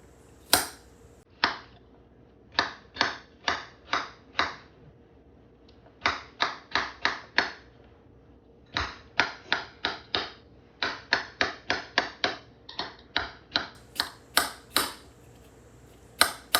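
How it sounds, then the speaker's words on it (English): Knife chopping apples on a cutting board for semi-homemade apple cinnamon rolls: crisp, close, loud chops in quick bursts of four to six strikes with short pauses between. "Chopping these up."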